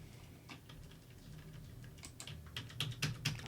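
Typing on a worn computer keyboard, quiet close key clicks in irregular bursts that grow busier and louder toward the end.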